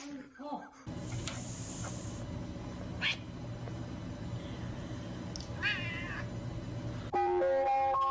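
A cat meows in a meme clip, its cries rising through busy background sound and voices, with a short burst of different music-like sound near the end.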